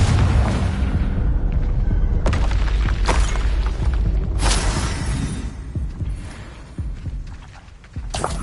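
Booming spell blasts from the Confringo fire spell in Hogwarts Legacy: several loud explosive thuds with crackling bursts land a few seconds apart, each ringing out, over a dense, rumbling game soundscape.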